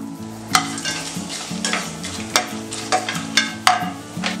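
Whole spices (marathi mokku, cardamom, star anise, cloves) sputtering in hot oil for a seeraga samba fish biryani, a steady close sizzle broken by sharp scraping stirs and clinks over a low musical bed.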